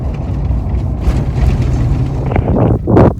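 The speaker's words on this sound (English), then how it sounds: "It's a little windy out, so you might not be able to hear me" Gusty wind rumbles against the microphone outdoors on a farm, swelling in bursts toward the end, loud and close.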